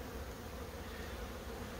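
Honeybees at a hive give a soft, steady buzzing drone, faint and continuous for a brief moment with no voices.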